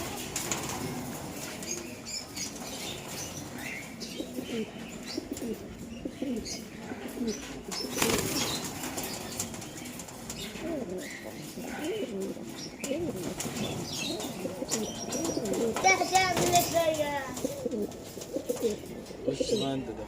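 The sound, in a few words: pigeons flapping and cooing in a loft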